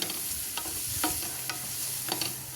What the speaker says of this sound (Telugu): సన్నగా కట్ చేసి పెట్టుకున్న ఆనియన్ కరివేపాకు గ్రీన్ చిల్లీ వేసుకుందామండి ఇది బాగా వేయించుకుందాం